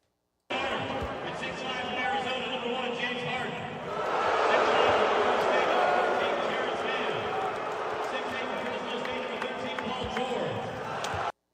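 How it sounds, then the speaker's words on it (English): Dense arena crowd noise courtside at an NBA basketball game in Philadelphia for James Harden's return, a steady roar of cheers and chatter that swells louder around the middle and stays continuous throughout. "Let's take a listen to the crowd in this one"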